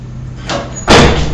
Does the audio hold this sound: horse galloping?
no